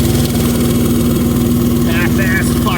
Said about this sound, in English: I see the exhaust leak already right here.